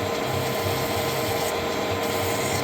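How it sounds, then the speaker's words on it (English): A hand file rubs along a metal edge on a custom Gold Wing motorcycle build to break the edge after a burr is removed, a loud, steady, close rasping scrape. "Come in with a file and break that edge."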